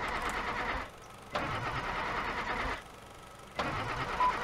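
A car engine cranks and turns over in repeated bursts, as a sound effect within a Cambodian rap song, coming as loud mid-pitched cranking broken by two short pauses, with no voices.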